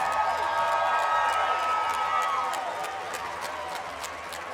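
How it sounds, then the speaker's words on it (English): Crowd applause and cheering ring out after a StrikeHard mixed martial arts fight, a dense steady wash of clapping at a live event that slowly tapers off, with a voice over it. "Can you give these guys a round of applause?"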